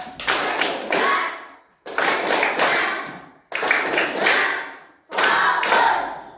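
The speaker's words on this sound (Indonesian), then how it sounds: "Tepuk tangan untuk kelompok 3" A classroom of pupils claps for a group in several loud rhythmic bursts, four distinct rounds of unison clapping separated by short silences.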